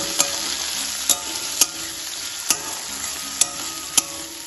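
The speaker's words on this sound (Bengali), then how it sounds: "কাঁচা মশলাগুলো তেলে ভেজে নেব।" Raw spices, onion and garlic fry in hot oil for a Bengali shrimp and yardlong bean dish, a steady close sizzle broken by six sharp clicks of a spatula against the pan, with no talk.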